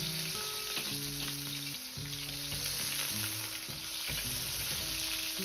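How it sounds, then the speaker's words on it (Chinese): Chicken wings pan-fry in oil over medium heat, a steady, close sizzle that runs throughout beneath soft background music. "再翻面煎另一面"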